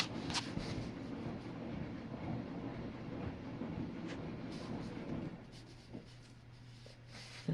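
A Samsung WF45N5300AW front-loading washing machine in its main wash gives off a steady low rumble of churning water with faint scattered clicks and clacks, moderately quiet and fairly constant, dropping slightly toward the end.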